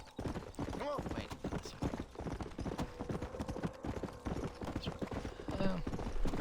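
A horse gallops in Red Dead Redemption, its hooves beating a rapid, continuous clip-clop close by, with a couple of brief whinny-like tones mixed in.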